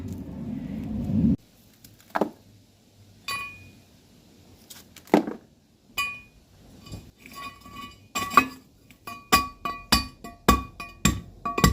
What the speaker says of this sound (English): See now, I've crushed all the ore up.